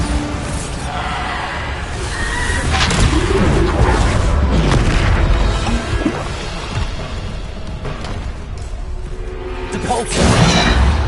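Bombarda explosion spells from a wizard game go off in a barrage of loud booms and whooshing blasts, with a heavy burst near the end, under a shouting voice calling out spell names.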